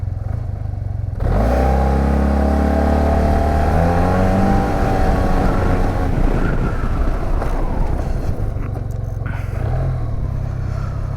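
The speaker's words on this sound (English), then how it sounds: "From idle, and we're gonna give it a handful of throttle." A SYM Maxsym TL 508 scooter pulls away from idle at full throttle, the engine note jumping to a loud, rising roar that climbs steadily, then eases off amid wind rush near the microphone.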